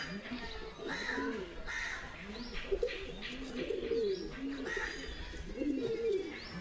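Pigeons in a pigeon loft in Habra coo in repeated, rising-and-falling bursts, several birds close by trading calls over a low background hum.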